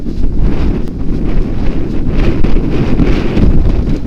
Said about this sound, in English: It's pretty windy in this field.